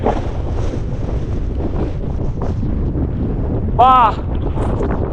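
Heavy wind buffeting the microphone with a constant low roar, briefly broken by a short tonal whine, and a voice speaking underneath.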